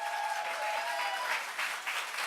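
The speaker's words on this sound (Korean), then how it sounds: "주님께 영광과 기대의 박수 올리며 할렐루야." A church congregation at a Sunday worship service applauds loudly and steadily, a dense wash of many hands clapping at once that fills the whole moment.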